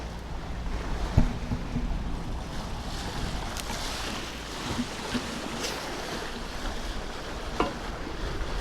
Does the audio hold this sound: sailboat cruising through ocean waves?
yes